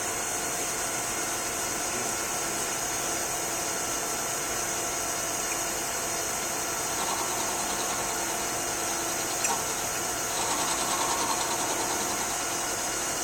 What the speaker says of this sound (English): I start my spindle back up, back into a manual mode, and I'm going to come over here and just take a face operation